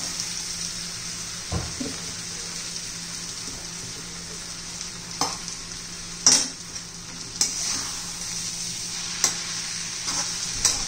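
Leftover chapati cut into noodles is stirred and fried in a pan, with a steady sizzle underneath and occasional spatula scrapes and clicks.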